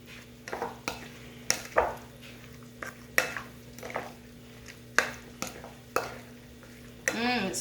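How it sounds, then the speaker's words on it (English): Sirloin tips and pasta are stirred together in a pan, with sparse scraping and clinking strokes of a utensil over a quiet sizzle and a low steady hum. "And then I'm going to mix this all together."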